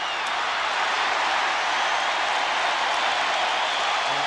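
A large stadium crowd at a 1989 Phoenix at Seattle football game roars in a dense, sustained wash of cheering after an interception, broad and steady throughout with no talk.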